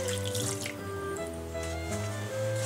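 A cup of water pours into a pan of brown sugar and golden syrup for a Christmas fruit cake, a soft, close trickle with drips that runs steadily for a few seconds.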